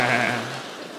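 Single sheep bleat used as a comedic sound effect, a loud close wavering cry that fades out over about a second, heard alone.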